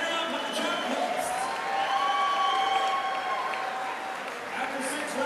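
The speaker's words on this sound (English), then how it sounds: "how about a nice round of applause once again for Lucretia Meacham and Alexandra Lopes" Arena crowd at a boxing match applauding the two fighters, a steady wash of clapping and cheering with some whoops and shouts, sustained and fairly loud throughout.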